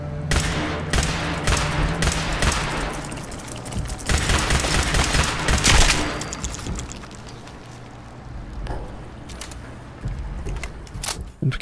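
Rapid bursts of gunfire in Fallout 4, repeated sharp shots in clusters, loud and close, with a quieter stretch of scattered shots toward the end.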